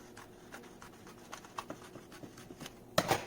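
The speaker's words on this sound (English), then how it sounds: "I'm going to use my scissors to go ahead and cut that sheet." Scissors snip through a sheet of vinyl in a series of quiet, close, irregular cuts, ending with one louder crisp rustle; no talk.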